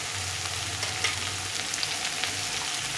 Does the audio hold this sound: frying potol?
yes